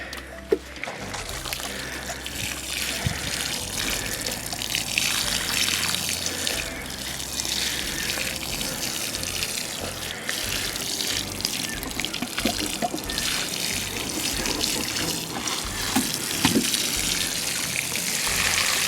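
Water pours and splashes steadily onto a pomegranate plant for a long stretch, a continuous hissing stream with faint trickling, close by and without talk.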